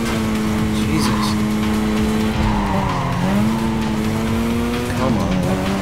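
Race car tires skid and squeal in a Need For Speed Carbon street race, a loud continuous screech with engine whine rising and falling under it, close and constant throughout.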